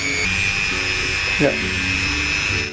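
A Mollar MG005 mini grinder switched on and running, a steady high-pitched electric whine that holds close and constant, with a brief spoken word in the middle.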